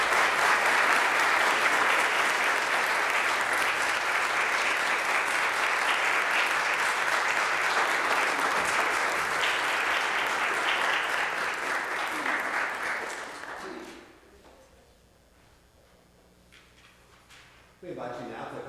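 A church congregation giving a long round of applause for new members, dense and sustained for about thirteen seconds before dying away into a quiet room, then a voice resumes.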